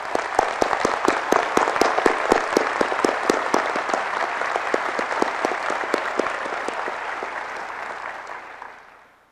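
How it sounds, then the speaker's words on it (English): A large audience at a university presidential inauguration breaks into loud, sustained applause for the platform party, dense clapping that holds steady for several seconds before fading out at the end. "please join me now in greeting the platform party with our applause"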